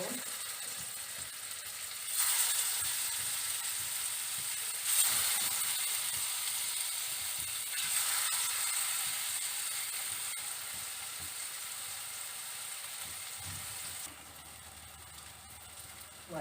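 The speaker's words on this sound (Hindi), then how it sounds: "हमारा ऑयल गर्म हो गया है, अब हम फ्राई करेंगे।" Beef shami kababs sizzle steadily in hot oil, a bright crackling hiss that swells every few seconds as the pan is disturbed, then settles back, with no voices over it.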